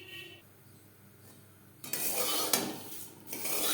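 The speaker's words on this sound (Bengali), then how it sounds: "আমি কম তেলে চিড়ে ভাজা তৈরি করছি।" Thin flattened rice (chire) frying in a pan with little oil: near-silence at first, then a sudden burst of close scraping, rustling stirring and light sizzling that continues, briefly eases and resumes, with no talking.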